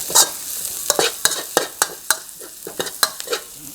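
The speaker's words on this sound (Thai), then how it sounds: "ผัดให้หอมนะครับ" Chili and garlic stir-fry in hot oil in a wok, with a sizzling hiss broken by rapid, repeated scraping strokes of a spatula, close and fairly loud.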